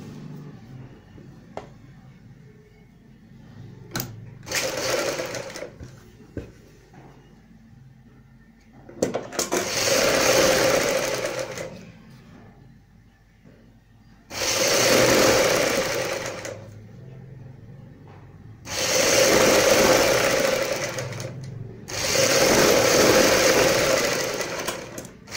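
Sewing machine stitching lace along the upper seam at the center of a salwar hem, running in four distinct loud bursts of several seconds each, separated by quieter pauses with faint handling noise.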